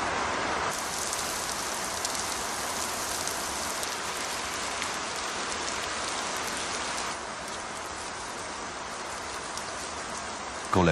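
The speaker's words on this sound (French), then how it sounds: "Quand la pluie devient trop forte" Heavy rain falling in an African forest habitat, a dense, continuous roar of drops hitting leaves and ground that stays loud and even throughout, easing only slightly toward the end.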